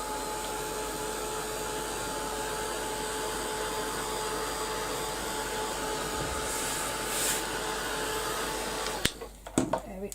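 A handheld dryer blasts air over a craft project in a steady loud continuous whoosh that holds for about nine seconds before cutting off with a few clicks and knocks.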